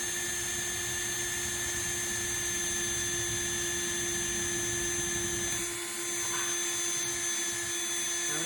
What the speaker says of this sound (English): I'm going to bring the drill down